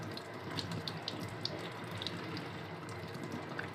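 Hot water runs steadily from the tap of a BRITC flow-through tankless water heater, a continuous close hiss and splash at an even level throughout, with no talking.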